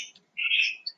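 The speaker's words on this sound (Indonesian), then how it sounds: "Sekar, berisik banget itu, ada burungnya." Birds chirp at home near the microphone during a Zoom meeting, with a few short, bright tweets and one longer call in a quiet room.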